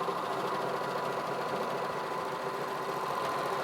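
A Bernina 1300MDC serger sewing a flatlock seam and trimming fabric with its knife, a steady, fast mechanical whir running continuously at moderate level.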